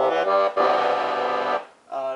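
Black Unico Bass Tenor 41 accordion with its bass and baritone registers combined, playing a couple of short notes and then a long, full, buzzy chord, with a brief restart at the end.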